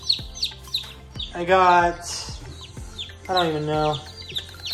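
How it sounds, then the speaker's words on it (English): A brooder of about twenty young chicks, including Buff Orpingtons and Wyandottes, cheeping and peeping up close in several rising bursts, with a person talking over them. "look at the little chicks"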